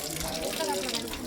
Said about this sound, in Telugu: ఇక్కడైతే కాళ్ళు కడుక్కో.